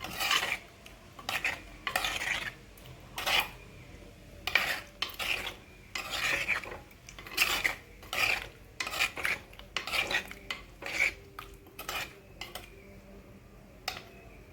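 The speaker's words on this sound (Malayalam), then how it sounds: "നല്ലോണം ഇളക്കി കൊടുക്കാം." Kurukku kalan curry being stirred in a pot: a spoon scrapes the pot in a repeated rasping rhythm of short strokes, close and fairly quiet, with a faint low simmer beneath.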